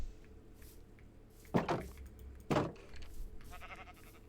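Sheep in the Minecraft video game bleat twice in quick succession, two short loud bursts about a second apart, against a quiet background with faint tones.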